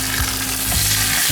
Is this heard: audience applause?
no